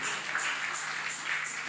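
Worshippers at a Sunday afternoon church service applaud the ministry's leadership, giving a brief, even crowd clapping with soft pulsing waves and no voices over it.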